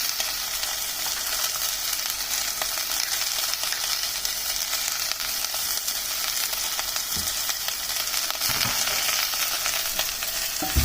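Onions half-frying in a pan with chili powder and salt for stuffed mirchi curry, a steady loud sizzle and crackle running unbroken throughout with occasional soft stirring scrapes.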